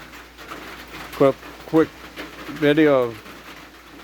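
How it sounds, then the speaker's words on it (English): A pigeon or dove cooing in a yard, three distinct coos, the last one longer and drawn out, heard nearby over quiet background with a few spoken words. "Kai trying to find out where the bird noise is coming from"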